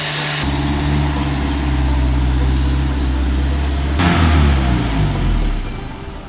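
An old Toyota Stout truck's engine idles and then revs while the truck backs into a workshop, a steady loud drone with a sharp start and a second rev surge near the end, no speech.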